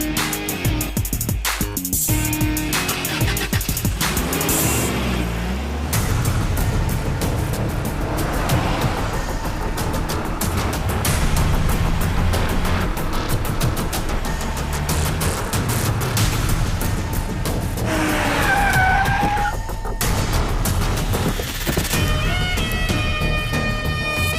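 A car roars loudly and steadily as it drives off, its engine and road noise filling the whole stretch in a dense, continuous wash.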